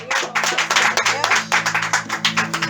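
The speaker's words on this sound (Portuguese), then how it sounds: "Vocês podem aplaudir o Senhor?" A church congregation claps together in quick, uneven bursts, the applause loud and close, with faint voices beneath it.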